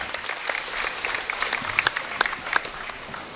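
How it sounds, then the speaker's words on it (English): A wrestling crowd in a school gym gives a standing ovation for Winterset at a varsity meet: sustained, dense applause with sharper individual claps rising out of it. "a standing ovation here from the Winterset crowd"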